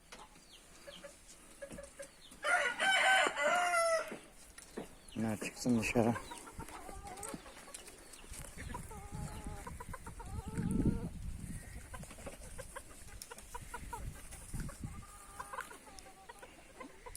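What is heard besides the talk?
rooster and chickens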